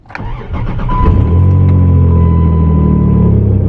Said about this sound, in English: this truck is probably the loudest vehicle I've ever owned on startup